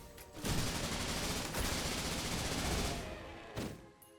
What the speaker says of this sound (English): It's like I have a Gatling gun